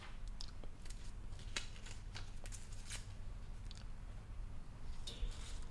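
Paper is ripped out by hand for a collage, giving several short, close tearing rasps and crinkles over a quiet background.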